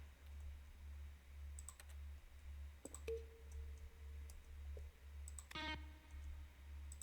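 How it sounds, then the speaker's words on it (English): Button-press effects from The Stanley Parable Ultra Deluxe, each a keyboard stroke mixed with a synth tone: scattered clicks, a few followed by sustained synth notes, over a low steady hum. "A selection of the sounds used throughout the game when buttons are pressed."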